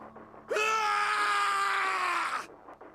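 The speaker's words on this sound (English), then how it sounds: "His scream echoed through the incineration chamber, full of rage and despair." Snake, a character in the visual novel Nonary Games: Zero Escape, lets out one long, raw scream of rage and despair lasting about two seconds. It starts abruptly, stays loud and strained, and then cuts off, with quiet hum before and after.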